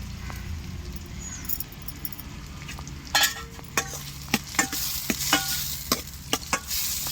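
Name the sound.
prawns and onions sautéing in a pan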